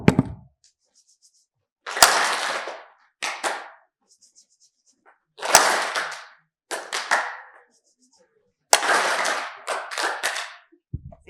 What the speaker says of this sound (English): You are going to start rubbing your hands when you hear the clap